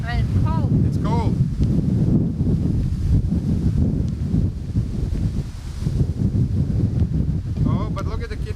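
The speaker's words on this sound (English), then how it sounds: "And it is windy." Cold, strong wind buffets the microphone at an outdoor picnic north of Lyon, France, a continuous heavy rumble with children's voices faintly heard through it.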